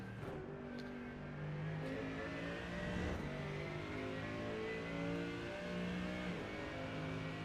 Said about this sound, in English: Let's ride on board with Cam in the number 33.